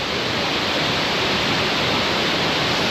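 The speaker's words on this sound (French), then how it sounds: "Vraiment trop belle cascade." Waterfall in the Lombok jungle, a steady loud broadband rush of falling water filling the whole clip without a break, close and constant.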